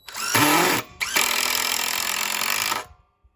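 A DeWalt impact driver driving a screw, giving a loud buzzing hammer-rattle in two bursts: a short one, a brief pause, then a longer run of nearly two seconds that stops abruptly into silence.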